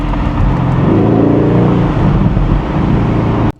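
A Mercedes-AMG GT engine revs hard and loud up close, its deep, sustained roar rising in pitch before cutting off sharply at the end.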